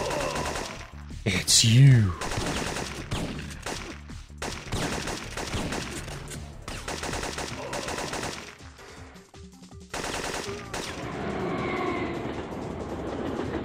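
Gunfire in the Syphon Filter video game, rapid bursts of shots among other loud game sounds including a brief rising whistle, with a voice speaking briefly.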